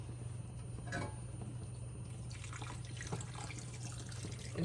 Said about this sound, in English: I'm going to just add that water there.